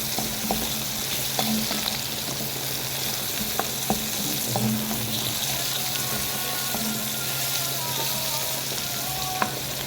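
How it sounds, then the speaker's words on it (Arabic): Peppers and onions fry in a pan with a steady, close sizzle and crackle, joined by a few light stirring clicks and brief running-water sounds in the background; no one talks. "ندبل الفلفل شويه"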